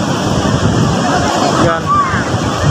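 Big ocean waves break and roar continuously along the shore, a loud churning wash mixed with gusty wind buffeting the microphone, while a voice speaks faintly in the background.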